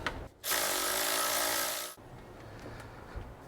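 A power tool spins out a 10 mm bolt from the cam cover of a 2006-2010 Subaru Forester with an EJ25 engine, one loud steady whir of about one and a half seconds between quiet shop sounds.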